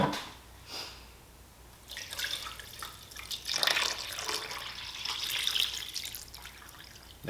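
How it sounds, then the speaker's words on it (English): Water pours from one vessel into another to cover a cake while dyeing candy corn yarn, a steady close splashing trickle that swells midway and runs on alone. "Did you want to pour some of the water from this into there"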